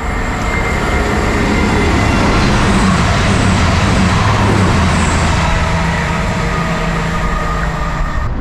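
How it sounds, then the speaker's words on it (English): A fast train roars past nearby, a loud, steady rush of wheels and wind that holds for several seconds. "here comes a fast train"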